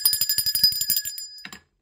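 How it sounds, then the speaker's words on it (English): Bright bicycle-style bell rung rapidly, about a dozen quick metallic dings in a fast trill, then a brief final double ring before it stops. "Let's ring the bell for that."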